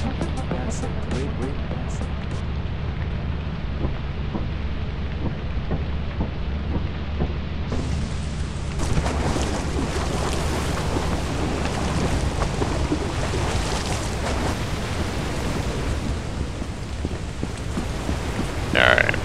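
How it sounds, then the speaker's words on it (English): Steady rain falling in the video game Lethal Company, a continuous hiss of drops that swells louder partway through, with a voice talking over it. "So I failed to realize that it's raining."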